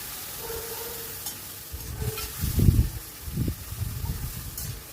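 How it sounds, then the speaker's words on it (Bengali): Spice paste of turmeric, coriander, cumin and chili powder with a splash of water frying in a pan, a soft steady sizzle swelling into louder bursts of bubbling and spatter as it is stirred, close by with no talking. "আর অল্প একটু জল দিয়ে মশলাটা ভালো করে কষিয়ে নেব।"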